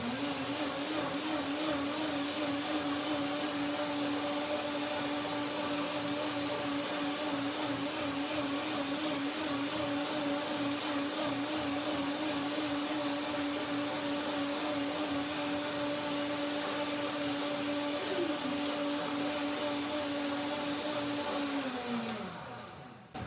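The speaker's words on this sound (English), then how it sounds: "I blend a little bit longer with a power blender, high-speed blender." A high-speed power blender runs steadily through a pear soup with hazelnuts, lemon, cashew and banana milk. The motor whine is loud and unbroken for most of the run, then winds down and stops near the end.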